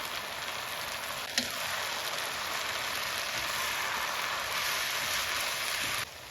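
Green chilies dropped into hot oil with chopped onions, garlic and broken dried red chilies, giving a steady, fairly loud sizzle and fry throughout, with a brief clatter early on and a sudden drop near the end.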